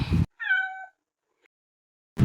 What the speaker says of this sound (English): This is the cat.